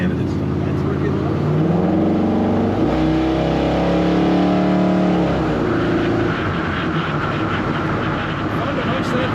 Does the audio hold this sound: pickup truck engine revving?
yes